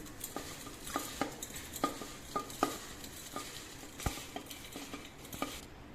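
Red chillies are mixed with oil and spices for a chilli pickle, with a spoon knocking and scraping against the bowl in a string of sharp, irregular clinks over a quiet background.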